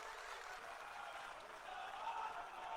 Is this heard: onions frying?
no